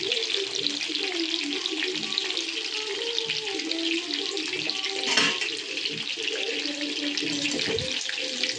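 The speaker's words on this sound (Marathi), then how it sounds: "बघू शकता तुम्ही मस्त आपले लॉलीपॉप फ्राय होत आहेत" Chicken lollipops deep-frying in oil: a dense, steady bubbling crackle, close and fairly loud, continuing unbroken with slight surges.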